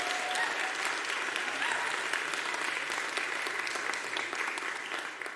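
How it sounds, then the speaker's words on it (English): A church congregation at a celebration service claps a big round of applause, a dense and even wash of many hands that stays loud throughout and eases slightly near the end. "So give them a big round of applause."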